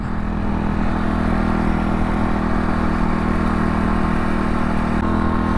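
Motorcycle engine droning loud and steady as the bike is ridden, a continuous close hum with wind rush and no pauses.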